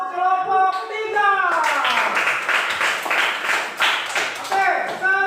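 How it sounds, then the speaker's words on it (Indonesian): A classroom group claps in brisk, steady applause for a student team, lasting several seconds while a voice speaks over it and hands keep clapping to the end. "beri aplaus untuk kelompok 3"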